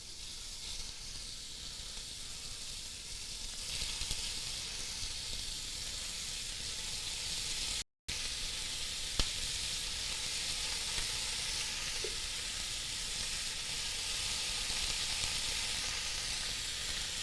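Food hits a hot pan while cooking stew and sizzles loudly and steadily, a continuous close hiss with a brief gap partway through and no talking.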